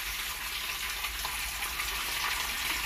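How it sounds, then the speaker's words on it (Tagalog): Fresh water pours steadily into a red tilapia tank, a continuous, even hiss and splash close by, with no pauses throughout. "nilalagyan ko na ng bagong tubig"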